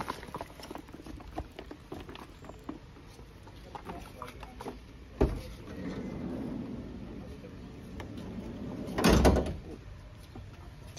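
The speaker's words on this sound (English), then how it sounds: "That's the side door." A campervan's sliding side door rolls and then thuds shut with a sharp bang, followed later by a second louder slam, with quiet rustling and handling noise in between.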